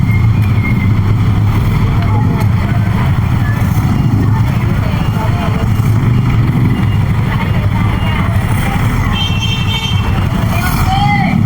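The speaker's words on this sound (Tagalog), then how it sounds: "Ayan o, traffic." Cars and motorcycles make a dense, steady drone of street traffic along P. Rada Street past busy roadside stalls, with a person talking over it.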